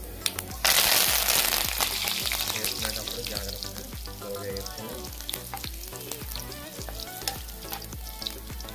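Cumin seeds and curry leaves sizzle hard in hot oil for a Chettinad chicken curry, a loud, steady crackling frying sound with a sharp burst near the start and spoon scrapes throughout.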